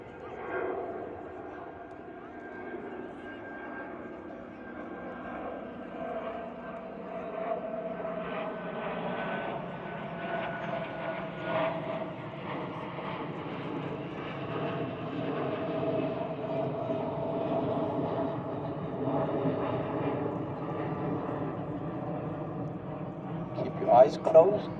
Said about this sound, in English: just like this plane has lifted off